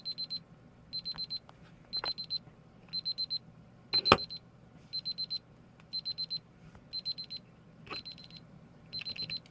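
A Sharp Elsi-Mate EL-405 calculator alarm sounds, a thin high electronic chirp repeating in quick bursts of pulses, steady and close, with a single sharp click partway through.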